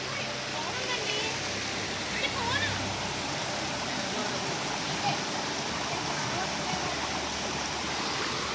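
Munjuluru waterfall pours in a constant, dense roar of rushing water, steady and loud throughout with no pauses, heard up close in a natural forest setting.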